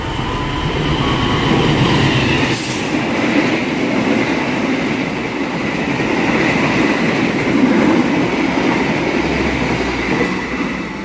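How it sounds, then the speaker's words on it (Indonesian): The Argo Cirebon passenger train speeds straight through Telaga Murni station, a loud, continuous roar of rolling wheels with rhythmic clatter and a brief high squeal, sustained close by with no talk. "Kereta api Argo Cirebon."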